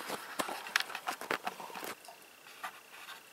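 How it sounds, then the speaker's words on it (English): A dog gnaws on a green fake bone toy nearby, giving irregular clicking, tapping and scraping bites at a moderate level over quiet background noise. "My dog, Teddy, chewing on his toys."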